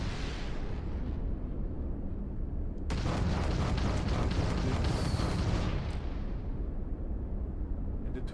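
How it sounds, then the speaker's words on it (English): A ship fires a missile in Starfield: a sudden loud roaring whoosh bursts in, holds for about three seconds, then fades back to a quieter rushing background. "This is the missile."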